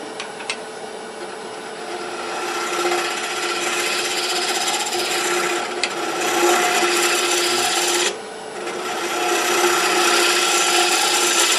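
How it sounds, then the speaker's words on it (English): A hand scraper works the top of an off-center wooden lattice box, producing continuous rasping, scratchy strokes at close range with brief pauses between passes. "This is just a scraper"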